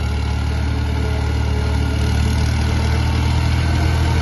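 A tractor engine idles steadily close by on a farm during corn silage making, a continuous low rumbling drone with no pauses or voices.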